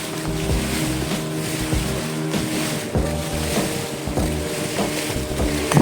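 A private boat crosses the open sea off Buleleng, Bali, its engine throbbing steadily beneath loud wind and splashing water, with irregular thumps as the hull hits waves.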